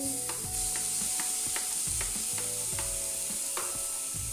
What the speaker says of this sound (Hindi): शिमला मिर्च दोनों को फ्राई करेंगे हाई फ्लेम पे